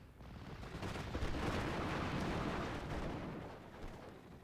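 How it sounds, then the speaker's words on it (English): Rapid 20mm autocannon fire in the WWII strategy game Steel Division, a dense, continuous rattle of shots blending into a loud, sustained roar with no talking. "almost able to kill him just with these 20mm guns"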